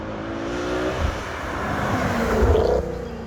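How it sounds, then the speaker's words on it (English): A Mercedes C63 AMG 507 Coupe engine blips through a rev match, heard from outside the car as a loud, near, rising and falling V8 roar over roughly three seconds. "You gotta hear the rev match too from outside."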